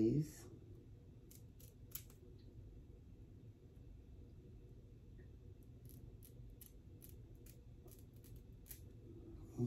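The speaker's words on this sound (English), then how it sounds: "I'm gonna go ahead and cut the lace or whatever." Repeated sharp snips of scissors cutting the lace of an HD lace wig, quick clipped bursts in small clusters, close and clear over a faint low background hum.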